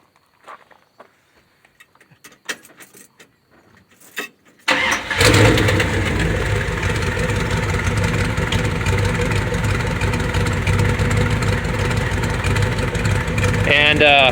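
A car engine with dual exhaust and Cherry Bomb Vortec mufflers on each side cranks over and fires up, settling into a loud, steady, rumbling idle after a few seconds of quiet shuffling and faint handling sounds.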